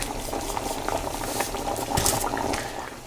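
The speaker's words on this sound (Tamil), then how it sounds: "இப்போது இதுக்குள்ளே நல்லா தண்ணி ஊற்றி வேக வைக்கலாம்." Water boils vigorously with chicken gravy in a pot, a steady close bubbling and simmering with occasional louder pops, with no voice over it.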